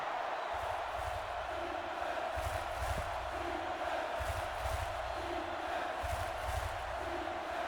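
Crowd noise at a football video game, a steady roar that swells in rhythmic waves of cheering and chanting as the home fans urge on their defense at the goal line, continuous and moderately loud.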